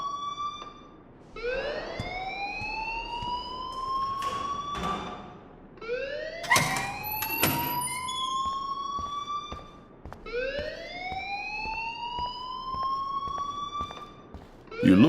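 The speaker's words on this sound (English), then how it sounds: "please turn off that alarm since that's your job." Alarm in the video game Life Is Strange wails in rising, siren-like sweeps that repeat about four times over background noise, with no talk.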